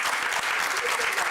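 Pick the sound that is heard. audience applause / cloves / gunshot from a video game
audience applause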